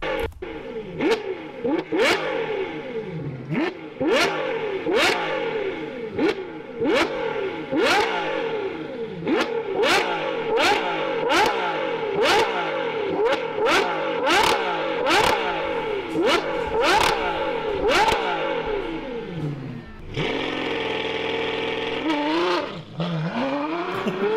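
A Ferrari V12 engine revs hard again and again, each rapid climb in pitch dropping back before the next, loud and close with a steady rhythm; near the end it settles into a sustained high drone.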